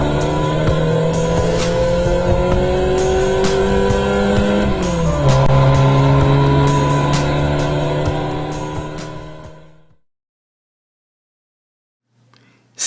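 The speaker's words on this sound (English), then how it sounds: "She finally started the ignition and drove on." A car engine hums steadily and then its pitch shifts as it drives off. The sound stays loud for about ten seconds before cutting to silence, with a brief fresh sound at the very end.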